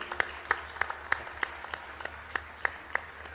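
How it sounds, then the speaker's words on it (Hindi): An audience at a Ramcharitmanas discourse by Shri Rajan Ji Maharaj claps in a steady rhythm, with sharp, evenly spaced beats about three per second over a low background hum. "एक बार ताली बजाइए।"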